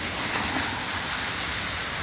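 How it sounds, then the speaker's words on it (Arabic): Steady rain falls throughout, an even, dense hiss of drops striking surfaces that stays fairly loud and unbroken for the whole stretch, with no voices. "مطر خير يا رب ان شاء الله"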